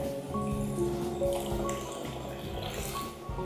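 Water is poured into a pan of paneer masala curry, giving a steady liquid splashing and dripping that runs continuously at moderate level with no talking.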